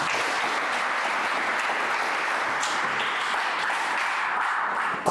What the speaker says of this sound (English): Great, please let's clap for him.